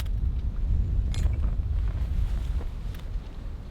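Breezy outdoor wind buffets the microphone as a steady low rumble with gusty swells, with a few faint knocks now and then and no voices.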